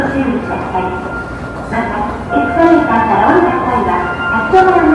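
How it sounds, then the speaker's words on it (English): Rumble and rattle of a Sakai-suji Line subway train in Japan moving along the track, with people talking over the steady rolling noise. "we're gonna go take the underground subway to the gym"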